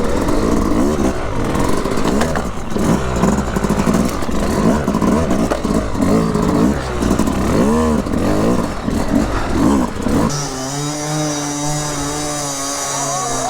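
A two-stroke hard enduro motorcycle is ridden close by, its engine loud and raspy with repeated revving surges, then settling into a steadier, higher drone near the end.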